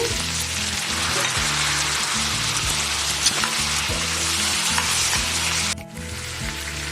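Vegetables with brinjal, fresh green peas and spices fry in a pan for bisibele bath, giving a steady, loud sizzle with stirring scrapes throughout, briefly dipping near the end.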